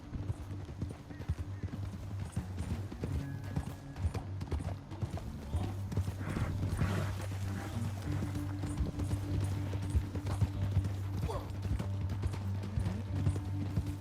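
Horse hooves clip-clop steadily and close in Red Dead Redemption 2, a continuous rhythmic trot carried along with a low humming drone and a faint whinny.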